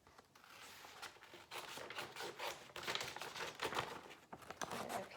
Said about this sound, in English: I'm going to cut down the middle.